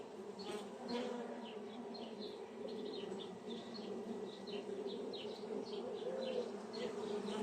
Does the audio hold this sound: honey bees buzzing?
yes